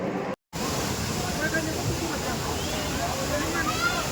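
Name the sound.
Kempty Falls waterfall in Mussoorie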